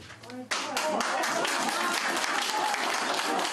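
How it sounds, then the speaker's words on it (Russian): Village residents applaud a council decision, a dense burst of clapping that starts abruptly and holds steady and loud to the end, following a brief stretch of voice. "Жители села такое решение встретили аплодисментами."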